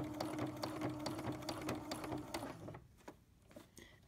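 A sewing machine stitches in a fast, even mechanical rattle up close, then slows to a few scattered separate stitches after a short pause.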